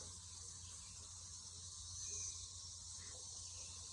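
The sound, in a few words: cicadas buzzing in Middle Tennessee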